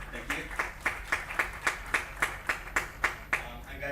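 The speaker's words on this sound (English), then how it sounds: "Just another round of applause, please, if you don't mind, for Vincent." Sparse, evenly spaced claps for Vincent at the close of a Crypto Pioneer event, a few distinct hand claps in a slow rhythm with faint voices beneath.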